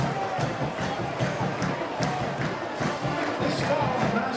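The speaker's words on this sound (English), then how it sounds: "the crowd noise here in Massillon is always a problem" A steady, loud crowd roar fills a high school football stadium in Massillon during a Tigers home game, holding a constant level throughout.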